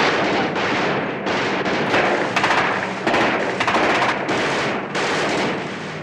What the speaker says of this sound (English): they're firing on us. Let them have it. Come on, open up.